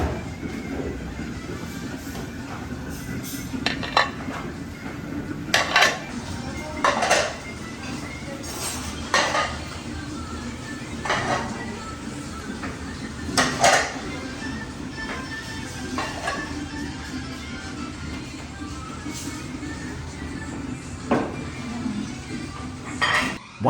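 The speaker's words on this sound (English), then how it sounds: "Once again, the rice is uncovered and gently stirred." Rice for Samarkand plov being gently stirred in a large pot, heard as irregular metallic scrapes and clinks of a utensil against the pot over a low, steady background rumble.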